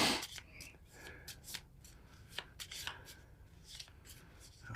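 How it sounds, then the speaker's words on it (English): A deck of activation cards for the Combat Patrol WWII skirmish game is shuffled by hand, giving a run of crisp riffling bursts and soft card slaps at close range, with no talk over it. "So we're going to give this a good shuffle."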